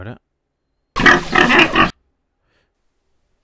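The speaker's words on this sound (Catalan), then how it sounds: "Podries posar el crit d'un porc." A single loud pig squeal lasts about a second, a harsh, grunting cry that is followed by silence, with a brief fragment of other sound at the start and at the end.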